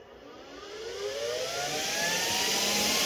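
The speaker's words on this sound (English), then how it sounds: "Alright, turn the fan on." Fan on a compressor rig for filling paintball air tanks spinning up, a loud rising whir that climbs steadily in pitch and volume over a few seconds, with no voices.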